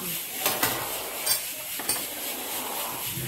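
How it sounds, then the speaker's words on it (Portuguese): Garlic softening in a pan with a steady soft sizzle, broken by a few sharp clinks of a spoon stirring against the pan; close and fairly quiet, with no talking. "O alho já tá refogando"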